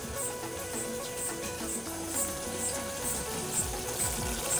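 Chicken masala fries in a pressure cooker with a steady, close sizzle and spattering hiss, joined by faint rhythmic ticking and a low background hum.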